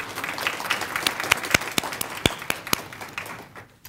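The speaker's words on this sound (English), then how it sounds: "Let's give DCTV a round of applause." Applause from an audience at a county celebration honoring nonagenarians, scattered distinct claps merging into a light round that tapers off after a few seconds.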